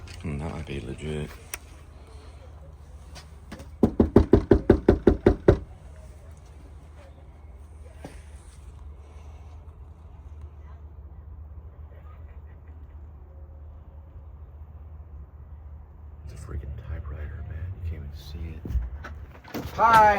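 Knuckles rapping on the door of a house, a quick close run of about eight knocks, followed by a long quiet wait with faint background and later voices.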